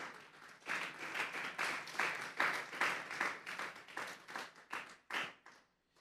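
Church congregation applauding, a burst of rhythmic, fairly close hand clapping with uneven pulses that builds, then thins out and stops near the end.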